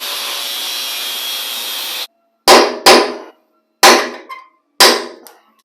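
Rivets hammered and punched out of an old GM Squarebody truck frame after the heads are cut off, heard as four loud, sharp metallic strikes with ringing decays. A steady broadband grinder-like roar runs before them.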